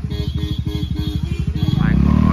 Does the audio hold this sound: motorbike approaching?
yes